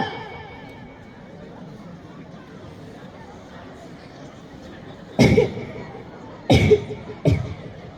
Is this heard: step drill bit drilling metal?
no